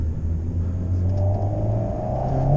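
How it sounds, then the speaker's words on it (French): An Alpine A110S engine pulls hard under acceleration in sport mode, a loud close rumble rising steadily in pitch as the revs climb, with no talk over it. "le moteur est très efficace. Ça reprend tout de suite, il n'y a pas de temps mort."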